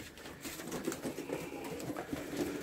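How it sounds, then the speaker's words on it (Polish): Many pigeons, around eighty birds, coo in a loft, their low overlapping calls forming a steady murmuring bed with soft rustling throughout. "około 80 gołębi jest."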